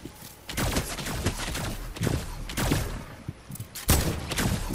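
Rapid bursts of gunfire from a Fortnite match crackle in quick clusters, some shots sharper and nearer than others, with brief lulls between volleys and no talk over them.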